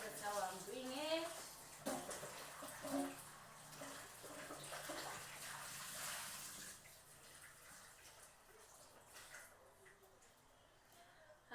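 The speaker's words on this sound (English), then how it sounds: "I wash them. Yeah, I wash my potatoes here." Peeled potatoes are washed by hand in water in a home kitchen, a soft continuous splashing and swishing close by, with a voice talking over the first part.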